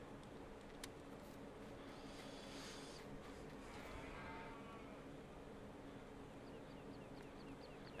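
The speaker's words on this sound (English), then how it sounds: "Gonna let the cows out of the barn." Cows mooing in the Farming Simulator 19 video game on the Lone Oak map, a few drawn-out low moos over a steady farmyard background, moderately faint, with no talking.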